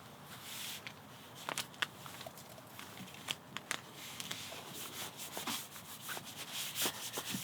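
Tape is rubbed and pressed along a wooden deck seam, giving a soft continuous scuffing with scattered sharp ticks and crackles, close and fairly quiet, with no voices.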